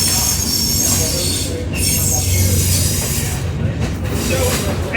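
The Wilmington & Western Doodlebug railcar rolls along the track, its wheels squealing loudly over a steady rumble and rattle of the running train, with no talk over it.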